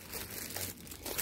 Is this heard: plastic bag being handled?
yes